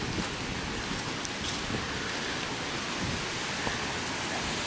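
Heavy rain from Hurricane Sandy pours steadily over a downtown street in Leominster, a dense, continuous hiss of falling water close by, with no voices.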